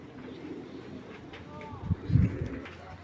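A pure black checker male racing pigeon coos in low throaty bursts near the end, close by, over a steady background murmur and someone talking.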